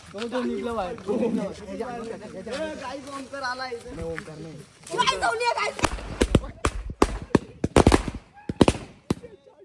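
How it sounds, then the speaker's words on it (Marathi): Firecracker bombs bursting on Diwali night in a village, a string of sharp loud bangs and pops in the second half, following people talking and shouting. "स्पेशल वाला बॉम्ब आवाज बघा"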